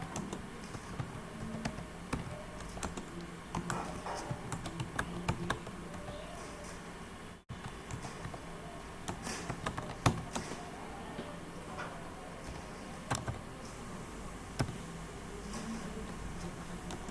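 A heading is typed on a computer keyboard in Microsoft Word. Soft, irregular key clicks tap along steadily for several seconds with brief pauses, quiet and close in an otherwise still room.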